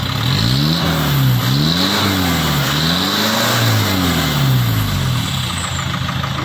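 A car engine revs repeatedly through a modified exhaust with a homemade-style muffler, deep and throaty, pitch rising and falling in close, loud waves.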